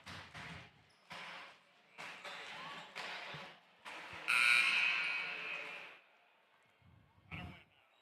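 A loud, sustained buzzer sounds for about a second and a half in a high school volleyball gym, rising over crowd noise and bouncing-ball thumps, then fading into the arena's ambient chatter.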